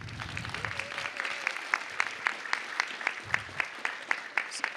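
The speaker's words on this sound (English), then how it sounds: "give them a round of applause" Audience applause at a city council meeting: steady, fairly faint clapping from a seated crowd with sharp individual claps standing out, continuing for several seconds.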